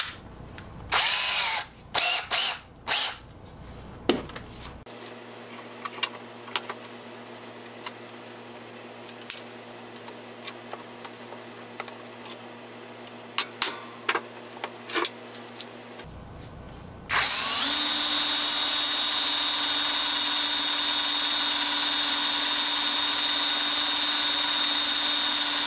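Black & Decker 7980 drill sharpener grinding a drill bit: a loud, steady motor whine with grinding that starts near the end, after quieter clicks and handling of the tool.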